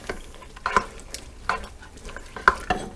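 Ingredients for beef stroganoff soup being stirred in a clay pot: a series of close scraping and knocking strokes in an uneven rhythm over a faint cooking sizzle, with no voices.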